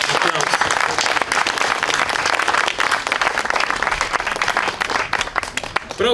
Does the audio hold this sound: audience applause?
yes